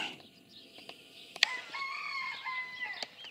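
Bantam and large white phoenix chickens crowing and clucking in a farm yard, a rooster's crow rising over scattered clucks and cackles at moderate distance with a soft outdoor background.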